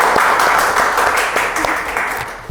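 A crowd applauds a guest at a campus ambassador event, loud and steady clapping filling the whole moment with no speech over it.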